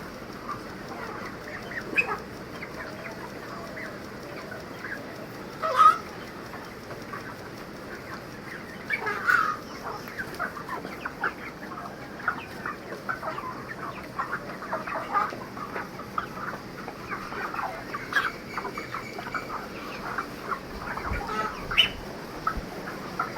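Chickens cluck and squawk steadily in a busy poultry house, many birds calling at once with occasional louder squawks rising above the constant chatter.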